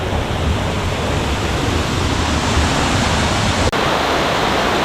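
A waterfall between two hills at Kaasipatnam near Araku Ghat road roars in a steady, loud, unbroken rush, with one brief click partway through and no voices.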